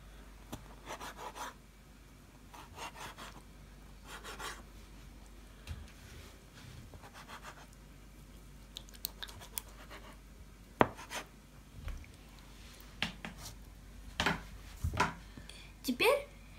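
A knife cuts fresh greens on a board while shchi is being made, heard as quiet, irregular close chopping taps and scrapes in short bursts.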